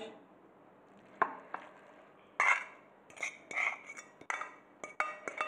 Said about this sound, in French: On va les mélanger aux œufs et le fromage.